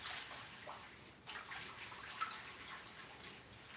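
Water splashes and runs as a batch of gritty greens is rinsed by hand, a soft continuous wash with small sloshes, faint and fairly close.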